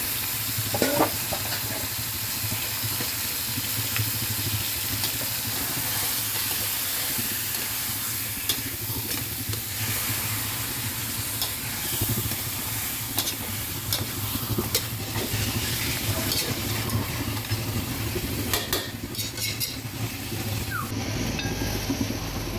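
Thin pork chop slices sizzling and frying in a pan with garlic and onion, a steady loud crackling hiss throughout, with occasional stirring scrapes and no talking.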